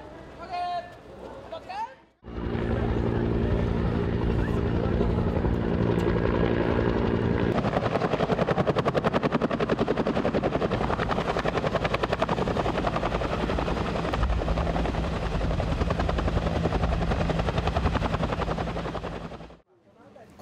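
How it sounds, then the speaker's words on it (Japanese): A Japan Ground Self-Defense Force helicopter hovers loudly close by during a hoist rescue drill over a school rooftop, its rotor thudding and engine whining steadily for most of the clip before fading out, with talk underneath. "陸上自衛隊のヘリコプターによる吊り上げ救助訓練も行われました"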